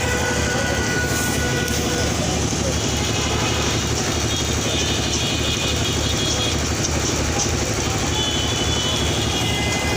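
Passenger train about to pull out of a station on a first close-up train trip, a steady loud rumble of rail and engine running throughout, with people talking nearby.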